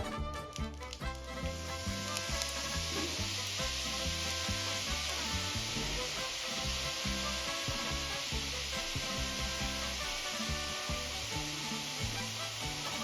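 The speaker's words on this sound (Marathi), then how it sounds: "गॅसची फ्लेम मी मिडियम ठेवली म्हणजे आपली शेव छान तळले जाईल" Sev made from gram flour noodles frying in hot oil over a medium flame, a steady bright sizzle with faint bubbling and occasional stirring scrapes, continuous and close, with no voices.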